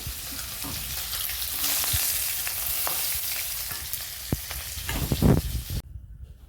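Shing fish (stinging catfish) frying in hot oil in a pan, a steady dense sizzle throughout with a few sharper crackles and spatter bursts near the end before it cuts off.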